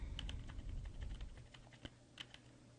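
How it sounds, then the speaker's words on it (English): Computer keyboard keys are tapped in a quick irregular burst of small clicks, close and fairly quiet, thinning to a few scattered presses. "by typing and by pressing plus and minus"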